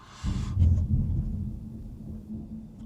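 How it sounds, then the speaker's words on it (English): Thunder rolls in during a storm, a deep low rumble that swells quickly, peaks near the start and then slowly fades, loud and close with no talking over it. "it's thundering"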